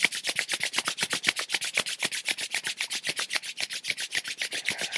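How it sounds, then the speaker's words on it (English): Palms rub briskly together during a beginner yoga class, a quick, even back-and-forth swishing that repeats about five times a second, close and clear with no voice over it. "rub the hands together"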